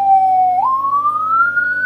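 Police-style wail from a Landun six-sound 60-watt motorcycle siren module, a loud electronic tone that jumps up and then sweeps slowly higher, steady and close.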